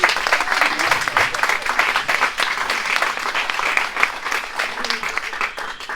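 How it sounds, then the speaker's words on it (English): Audience applause for Annabelle, a 20-year-old guest, at a foundation launch event: dense, steady clapping from a crowd sustained throughout, loud and close with no break. "Please give her another round of applause."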